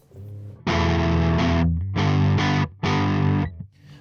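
An electric guitar plays three chunky strummed chords through an EarthQuaker Devices Gary overdrive pedal at low gain, mildly overdriven, close and fairly loud, with short gaps between them.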